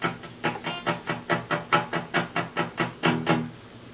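Palm-muted electric guitar strums on the top three strings: a quick, even run of short, damped chugs, roughly four per second, close and steady with no voice over them.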